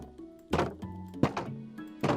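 Hollow wooden thunks from oak wood blocks in Minecraft, three distinct knocks spaced about three-quarters of a second apart, close and fairly loud with no talk.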